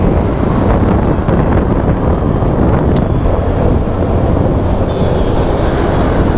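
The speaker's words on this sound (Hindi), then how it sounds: "बहुत ही मस्त हवा चल रही है" Strong wind roars steadily into the microphone during a scooter ride on an Activa along a Gujarat state highway, a loud continuous rumbling buffet with no talk.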